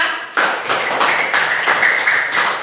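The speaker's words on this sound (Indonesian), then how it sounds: "Tepuk tangan untuk kita semua." Schoolchildren in a classroom clap their hands together at their teacher's prompt, a sudden burst of quick, slightly uneven clapping that carries on steadily until the end, close and fairly loud.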